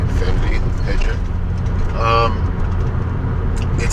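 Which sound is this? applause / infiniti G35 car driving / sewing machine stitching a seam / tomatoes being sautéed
infiniti G35 car driving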